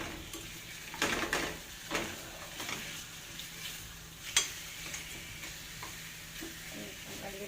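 A breaded chicken cutlet (panee) is flipped in a pan and cooked with little oil, giving a soft, steady sizzle broken by a few sharp clacks of a utensil against the pan. No one speaks.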